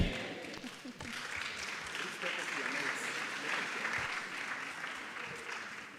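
An audience at a media convention claps together in a dense, even spread of applause that holds steady, heard at a moderate distance with some talk mixed in.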